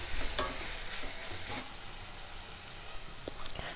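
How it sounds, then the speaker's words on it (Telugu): Onions frying in hot oil with turmeric and ginger garlic paste, a steady close sizzle with occasional stirring scrapes in the pan. "ఒకసారి కలుపుకొని ఎర్రగా అయ్యే వరకు వేపుకోవాలి"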